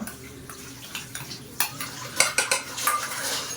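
Chicken pieces are mixed with ginger garlic paste in a bowl for a marinade: soft squelchy stirring at first, then several sharper clinks of a spoon against the dish, close and fairly loud, with no speech.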